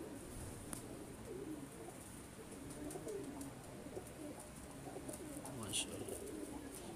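Racing pigeons coo softly in a steady murmur against a noisy background, with a few faint chirps on top.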